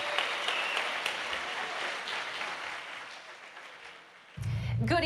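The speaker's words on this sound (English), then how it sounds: "let's give Katie a round of applause for all she's done for Silver Key." An audience at an anniversary gala applauds in a sustained round that slowly fades, and a voice begins speaking near the end.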